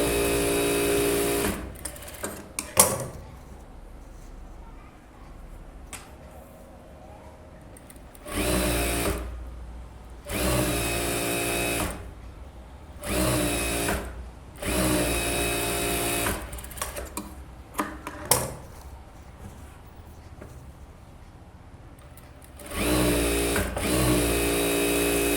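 Close, loud sewing machine stitching on a blouse, running in several sustained whirring stretches of a few seconds each, broken by brief pauses and faint handling noises.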